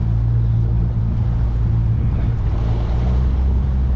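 Yamaha F70 outboard motor on a 1996 Sea Swirl 172 boat idling up to about 1,500 rpm on the water, a steady low droning hum with wind and water wash blowing across the microphone throughout.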